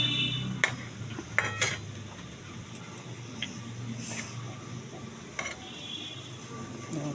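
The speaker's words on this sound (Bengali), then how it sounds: "তেল ছেঁকে ছেঁকে আমি একটা একটা করে তুলে টিস্যু পেপারের মধ্যে রেখে দিচ্ছি, যাতে একটুও তেল না থাকে।" A metal utensil clinks against a pan while fried lachha semai cookies are lifted one by one out of hot oil, sharp scattered clinks over a steady sizzling hiss, close, no talk.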